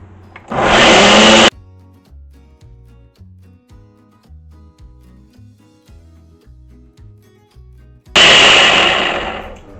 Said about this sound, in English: Put it on the blender, power up, and then start our blend.